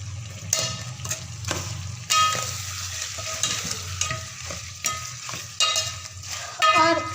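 Tomatoes and green chillies frying in beef karahi, a loud steady sizzle broken by repeated clanks of a spoon stirring the pan, with no talking.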